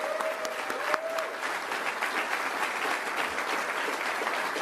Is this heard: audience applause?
yes